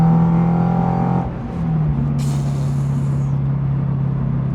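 Engine and exhaust of a 2023 Toyota GR86, a steady, loud low drone that eases briefly and then settles back into a sustained hum, close by, with no voices.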